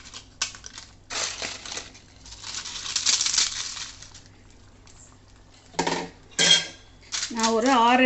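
Fried papad pieces clatter and crunch into a metal pot of simmering potato kootu in several bursts, with scraping and clinking of utensils between quieter pauses.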